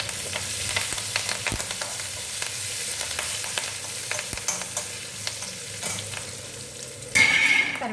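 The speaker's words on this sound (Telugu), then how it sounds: "కరివేపాకు వేసాను కదా, ఇది వేగుతూ ఉంది." Curry leaves, carom seeds and dried red chillies fry in hot oil in a pan, giving a steady close crackling sizzle with occasional sharp pops and stirring clicks, which briefly flare louder near the end.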